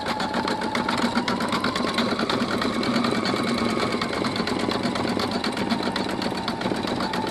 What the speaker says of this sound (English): making another embroidery motif with this Designer1